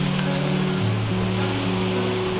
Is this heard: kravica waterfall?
yes